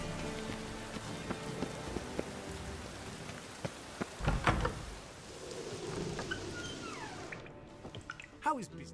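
Steady rain falls across a city in The Witcher 3, a constant wash of drops on surfaces under voices talking, with a few louder splashes and other game sounds mixed in.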